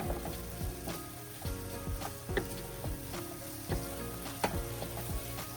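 Ginger garlic paste sizzles steadily in an oiled pan for kadai paneer, a continuous close frying hiss with occasional stir clicks and spatula scrapes, no voices.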